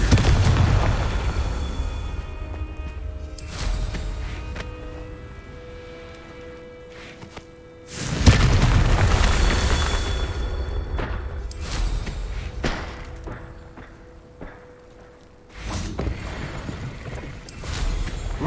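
Confringo fire-spell blasts in the Hogwarts Legacy video game during an ancient magic trial: several heavy, crackling booms spaced a few seconds apart, each bursting loud then fading into a rumbling tail.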